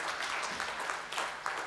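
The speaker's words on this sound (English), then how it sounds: "Can we please have a big round of applause for our partners?" Audience clapping at a food industry launch event in Bengaluru, a steady moderate wash of hands held through the short stretch, slightly distant and a little quiet.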